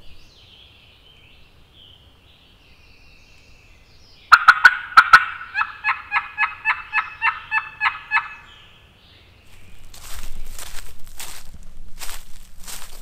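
After a quiet stretch in West Virginia woods, a wild turkey lets out a loud, rapid rattling gobble nearby, followed by crunchy footsteps through leaves.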